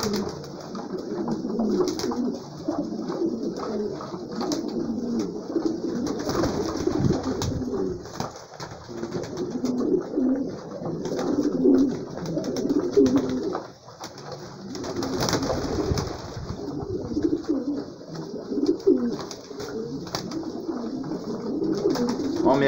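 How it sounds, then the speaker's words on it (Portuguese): Racing pigeons in a flock cooing together, a continuous chorus of soft, overlapping coos close by with wingbeats and rustling mixed in. "Aqui aumentou muito os pombos"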